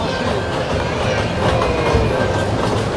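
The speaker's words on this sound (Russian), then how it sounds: "Поезд едет." A toy train ride in a children's store rumbles steadily along with a continuous rolling clatter and faint high squeal, fairly close and unbroken for the whole stretch.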